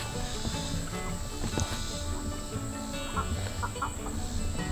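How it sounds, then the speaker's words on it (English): Chickens in an open-air run beside their coop, a flock clucking and calling in overlapping bursts against steady outdoor background noise, close and fairly clear. "So these chickens have free run to go in and out of the coop."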